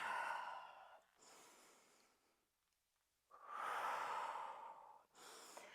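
Slow, deep breaths during a Pilates mat stretch, each long airy inhale or exhale close to the mic with quiet pauses between, about three breath cycles and no talking.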